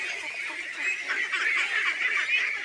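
A crowded duck farm in the Chalan Beel wetland fills the air with dense, overlapping quacking and honking from many birds, loud and continuous.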